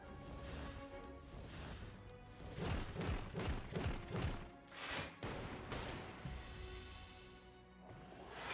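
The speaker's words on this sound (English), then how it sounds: "And flak cannon for 60 damage" A flak cannon attack in Slay the Spire 2 lands as a rapid volley of heavy thuds and booming impacts, building into a dense barrage in the middle before settling into a softer, lingering rumble.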